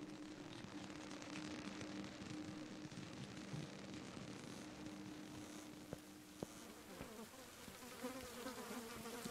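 A fly in the Layers of Fear 2 video game drones in a faint, continuous buzz that holds steady throughout, with a few soft clicks near the end.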